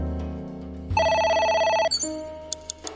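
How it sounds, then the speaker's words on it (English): An electronic telephone ring chimes in a steady burst for about a second, followed by a softer tone and a few faint clicks, heard alone in a quiet room. "A phone. Should I pick it up?"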